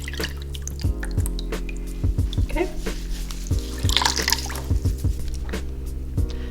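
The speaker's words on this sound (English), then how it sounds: "If you put it under running water," Running water splashes and drips onto an Instant Pot part being rinsed under a tap, with irregular close splatters and droplets over a steady hum; a voice speaks briefly.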